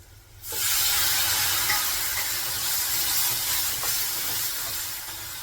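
A sudden loud hiss of steam bursts up as cold water hits spices frying in a hot pan, holding steady as a dense, continuous sizzle that slowly eases over several seconds.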